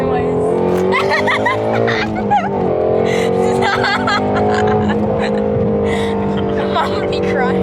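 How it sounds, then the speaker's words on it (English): Inside a 2020 Shelby Ford Mustang GT350R race car, a steady, loud engine drone hums throughout at low speed, with voices talking over it and a brief laugh. "why is the car making this noise?"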